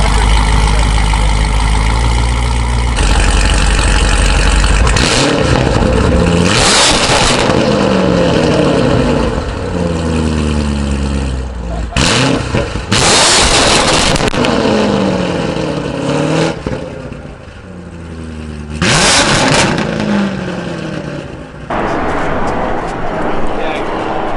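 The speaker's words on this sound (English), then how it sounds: "So there's some free revs to end off the video." A Corvette C8 Z06 V8 engine with equal-length headers free-revs loudly several times, each rev climbing sharply then falling back, with short pauses between bursts.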